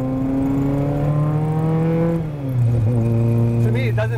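A tuned 1985 Honda CR-X engine runs loud and close, holding a steady buzzing drone, then dips briefly and revs back up with rising pitch near the end.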